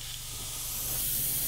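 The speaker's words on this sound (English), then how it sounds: "I'm going to do the same as what I did previously with the other layers, from a distance, just over an airbrush length away." An airbrush sprays lime-green paint from just over an airbrush length away, a steady close hiss that grows slightly louder and continues unbroken throughout.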